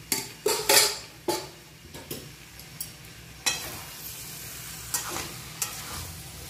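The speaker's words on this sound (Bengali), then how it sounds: "ইঁচড় দিয়ে মাংস দিয়ে মশলা দিয়ে একসঙ্গে ভালো করে মিশিয়ে নিচ্ছি।" Chicken, green jackfruit and spices are stirred together in a pan. A spoon scrapes and clanks repeatedly against the metal over a quiet, steady sizzle, with irregular louder strokes.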